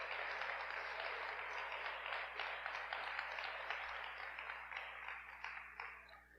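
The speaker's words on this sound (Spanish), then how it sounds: "Denle un aplauso bien fuerte al Señor" A church congregation applauds loudly and steadily for several seconds, a dense wash of many hands clapping together that eases off slightly toward the end, with no talking over it.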